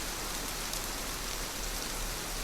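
Rain falls steadily and evenly under a roof, a constant close hiss of drops with no breaks and no voices.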